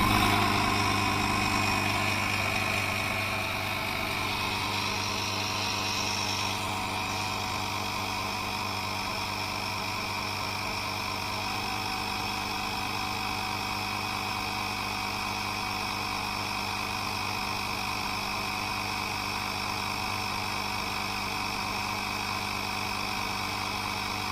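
An Altocraft portable air compressor tire inflator runs nonstop while airing up a tire, a steady buzzing motor hum with a mechanical drone that holds even and close throughout, with no voices.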